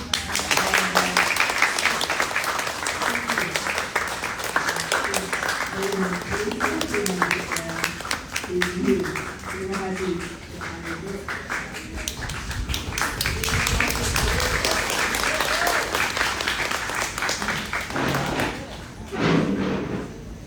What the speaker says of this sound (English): So please give her a huge applause